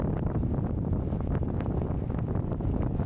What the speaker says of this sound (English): Excuse the wind. I hope it's not spoiling the sound too much.